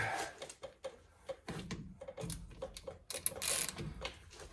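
A hand ratchet loosens tight, rusty bolts on a 6.5 diesel engine, making quiet, irregular clicking and clanking strokes at close range.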